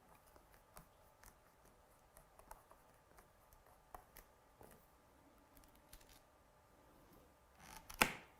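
Scissors cut out stamped card pieces during card making, with faint, soft, irregular snips and paper handling close by, and a louder sharp click near the end, and no talking.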